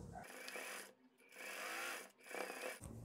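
Sewing machine stitching the seam of an aromatic pillow, two bursts of fast, even mechanical whirring close by, broken by a brief pause, with no talking.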